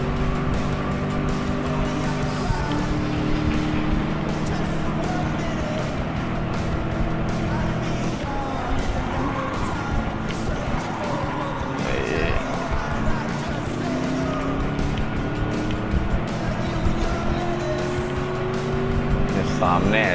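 Racing car engines in a Clubman Cup video game race drone continuously, with engine pitch rising and falling as the cars accelerate and shift.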